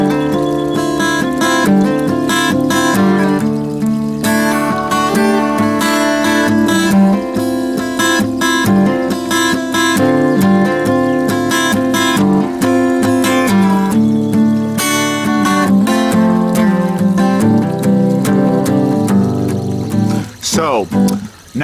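Acoustic guitar strums the chords of a song with simple hammer-ons, a steady, full, close rhythm that runs continuously, with a brief scrape near the end.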